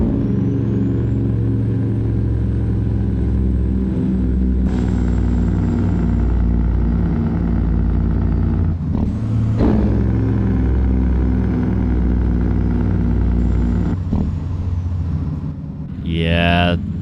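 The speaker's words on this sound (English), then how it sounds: "especially on this Cat, it's got such a rumbly engine brake and Jake brake" Deep, rumbling Jake engine brake on a Cat-engined heavy-haul truck in American Truck Simulator, a loud continuous throbbing drone with shifting pitch that carries throughout, ending with a rising rev.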